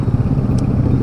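Motorcycles by the roadside of a main road outside a suburban gate in San Fernando, Pampanga, a close, steady low engine rumble with faint clatter and no talk.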